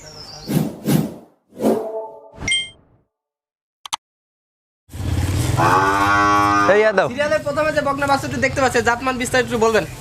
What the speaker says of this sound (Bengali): আজকে চারটা গরু দর্শকের চলো একটু দেখাই